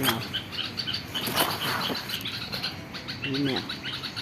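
Bulbul birds calling in agitation at a cat prowling near their nest, with sharp repeated chirps and tweets and some wing flutters, moderately close against a soft outdoor background.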